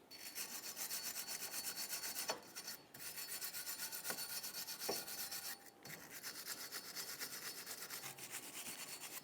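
Fast, steady scratchy rasping of a wire brush scrubbing a 2014-2019 Toyota Corolla wheel hub surface during brake replacement, close and continuous with brief pauses between strokes.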